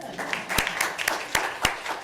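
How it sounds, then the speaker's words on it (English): Audience applause at a 2024 conference side event session on global and national indicators, moderate and somewhat sparse with distinct individual claps standing out, fairly close. "Another round of applause for them."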